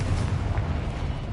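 A Confringo spell explosion in the video game Hogwarts Legacy gives a short, dense, loud low boom with steady rumbling energy and no clear onset or tail.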